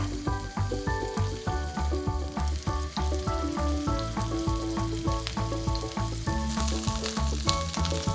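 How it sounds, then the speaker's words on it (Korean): Beef rolls fry in an oiled, heated pan, turned over a low flame, giving a steady, even sizzle under background music. "달군 팬에 기름을 두르고 중불에서 이음새 부분을 먼저 익힌 뒤 약불에서 굴려가며 속까지 천천히 익혀줍니다."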